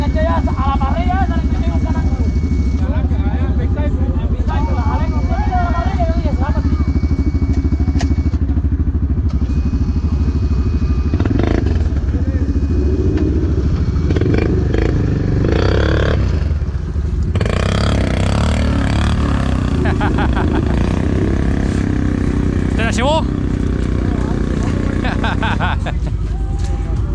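An off-road motorcycle engine rumbles loudly and continuously on a muddy ride, with revving, rattling and clatter as it rides over rough ground, and voices talking intermittently over it.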